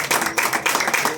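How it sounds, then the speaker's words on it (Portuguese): A church congregation claps together after being invited to applaud during a worship service, a dense, steady burst of many hands close by with no talking over it. "Vocês podem dar uma salva de palmas para Jesus,"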